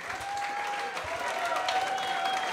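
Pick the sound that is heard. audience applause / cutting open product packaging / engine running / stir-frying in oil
audience applause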